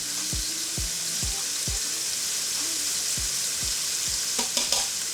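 Pasta noodles and beef frying in a pan, steady sizzle throughout with repeated dull scraping knocks as a utensil stirs and separates the noodles, a brief clatter near the end.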